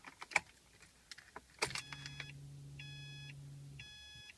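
A 2014 Subaru WRX starts up from inside the cabin: a few clicks, then a low steady hum comes on under two or three short, repeating electronic chime tones. The sounds are close and clear, with no talking.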